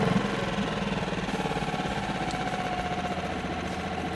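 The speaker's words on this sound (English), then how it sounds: "At this point it's idling nicely." A Hidea 6 hp outboard boat motor idles steadily nearby, its low engine chugging in a fast, even pulse for the whole stretch, with no one speaking.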